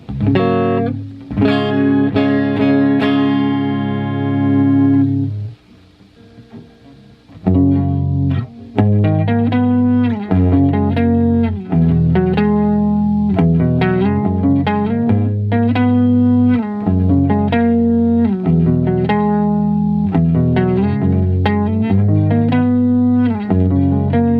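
Single-coil Telecaster electric guitar with a clean, bright tone plays chords and picked notes loudly, with a brief pause near the start before continuing steadily.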